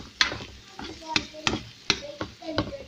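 Keto cauliflower rice with green onions is stirred in a hot pan, giving a series of sharp, regular spatula scrapes and clacks over a light sizzle, close and distinct.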